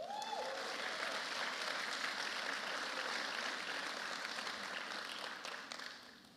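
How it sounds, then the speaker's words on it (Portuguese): Applause from a church conference crowd in Nova Venécia, a steady dense clatter of many hands clapping at once, loud and sustained before tapering off near the end, with no voices over it. "Pode dar uma salva de palmas para Nova Venécia, gente?"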